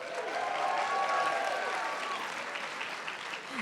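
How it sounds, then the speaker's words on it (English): An audience at a scholar-night ceremony welcoming new student scholars claps steadily and fairly loudly throughout, with a few cheers and whoops rising above the dense patter. "Students, please sign those commitments and let's give them a round of applause."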